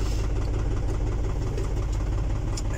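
Engine running in neutral after three months sitting unused, a loud steady idle rumble with a slight rise in revs from a short throttle blip.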